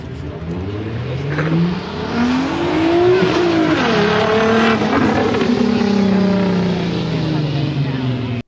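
A Nissan Skyline R32 engine and exhaust revving at a car show: loud, sustained throttle blips that rise and fall in pitch over several seconds, with crowd noise in the background.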